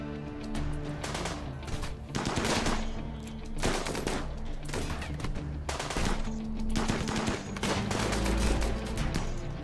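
Bursts of video game gunfire from a RimWorld colony battle, with rapid machine-gun volleys and single shots coming in loud clustered waves, pausing briefly and then resuming, with no talking.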